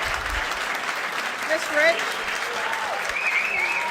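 Audience applause at a public meeting, a steady wash of clapping that holds for several seconds at moderate level, with faint voices underneath.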